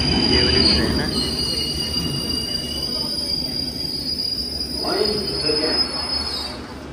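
A train arriving at a London station, its wheels squealing in a loud sustained high screech over a rumbling rolling roar, with a brief voice heard near the end.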